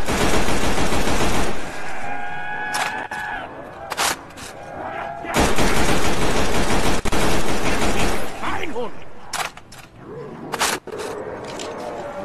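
Loud, sustained gunfire in the Black Ops zombies map Der Toten, played with a Renaissance mod, with continuous shots and sharp bursts, plus a voice speaking briefly.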